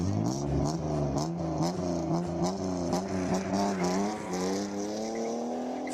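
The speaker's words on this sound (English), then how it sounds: "Jacob Mashokwa, your boy is about to leave the start line." A classic race car at a Cape Town speed classic event accelerates hard from the start line, its engine note climbing steadily through the revs, loud and continuous.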